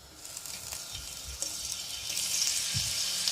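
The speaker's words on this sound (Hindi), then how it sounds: "ये देखें ये हमारा जो लहसुन और अदरक का पेस्ट था इसको हमने सौते कर लिया है।" Garlic and ginger paste sautéing in about two tablespoons of hot oil for a Mughlai chicken dish, giving a steady, close sizzle that swells slightly louder toward the end, with no talking.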